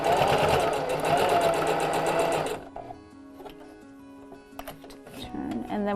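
A sewing machine stitches a fabric face mask, running in a loud, fast, even whir for a few seconds, then stopping, followed by quieter handling clicks and a brief restart.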